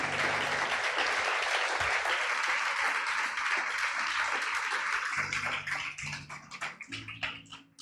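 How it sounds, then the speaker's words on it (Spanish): A church congregation gives the Lord loud, sustained applause, a dense wash of clapping that thins toward the end into scattered claps, with no speech over it. "Dele un fuerte aplauso al Señor."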